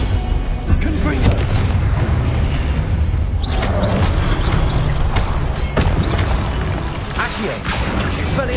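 Confringo explosion spells go off during a Hogwarts Legacy battle, with loud, dense booms and crashing blasts in quick succession and a voice calling out amid the chaos.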